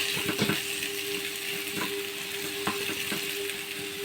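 Onions frying in a pan for a vegetable puff filling, a steady close sizzle with occasional scraping stirs and a faint hum underneath, no voices.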